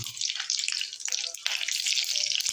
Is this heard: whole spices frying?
yes